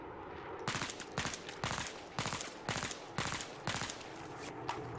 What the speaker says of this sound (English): 3 or 4 round bursts should be efficient enough to get the job done